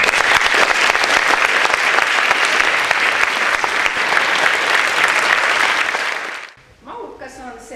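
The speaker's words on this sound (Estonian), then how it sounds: "Nii et suur aplaus teile." A concert audience at the Põlva cultural house breaks into dense, sustained applause that fills most of the moment, then cuts off abruptly as a voice starts speaking.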